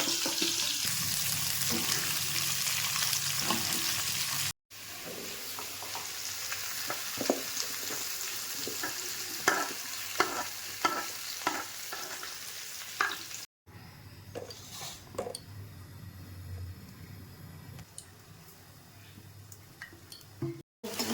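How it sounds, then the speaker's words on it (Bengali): Steady sizzling of jackfruit pieces frying in a pan, with repeated scraping stirs and occasional clatter, continuing for a long stretch without speech. "এটার মধ্যে এঁচোড়গুলো ভাজবো।"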